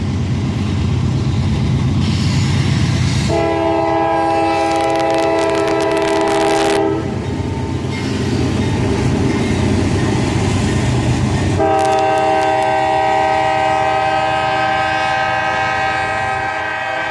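A northbound manifest freight train led by an AC-44CW and an ES-40DC diesel locomotive rumbles past loudly, its multi-tone horn sounding in two long blasts over the continuous roar of engines and rolling cars.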